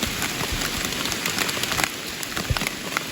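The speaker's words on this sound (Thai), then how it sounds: "ฝนกระตกพี่น้องเอ้ย" Continuous rain pattering on leaves and ground in a forest during mushroom gathering, a dense steady hiss with scattered nearby drop hits, no voices.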